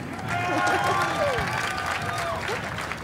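A crowd applauds Yubel at a prizegiving ceremony for game competitions. Moderate, steady clapping runs under voices and a few bits of talk, with no clear beginning or end.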